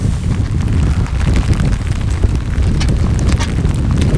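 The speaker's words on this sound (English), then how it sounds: "hopefully that's helping on the wind noise" Wind buffets an outdoor microphone fitted with a furry windscreen, making a loud, continuous low rumble with gusty surges and no speech.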